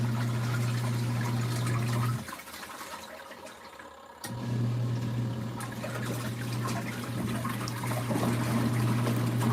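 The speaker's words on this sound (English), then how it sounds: "reduce the force of the water coming in." LG ThinQ washer taking in water during a bedding cycle, a loud steady hum of the fill with rushing water, cutting out for about two seconds of quieter trickling before resuming.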